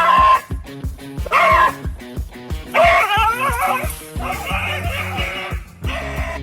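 A dog confronting a massive iguana lets out a rapid string of sharp, close barks and yips, then shifts into higher whining and whimpering cries.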